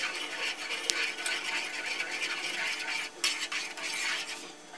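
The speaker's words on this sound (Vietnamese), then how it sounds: "Chúng ta thường xuyên phải đảo nui lên," Boiled macaroni is stirred in a pot with a utensil, giving a steady wet scraping and clinking that runs throughout, with a few sharper metal knocks and no talk.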